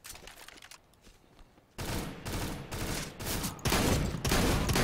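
Shotgun fire in a zombie shooter game: after a quiet start, loud repeated blasts burst out in a dense, rapid volley that builds in intensity toward the end, with no talking.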